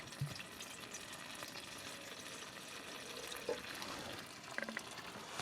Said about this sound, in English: add some water for the mashed potatoes